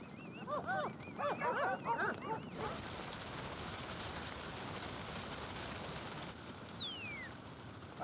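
Several herding dogs bark in quick, overlapping bursts for a couple of seconds in Chilean Patagonia, then give way to steady outdoor rushing noise and a thin whistling tone.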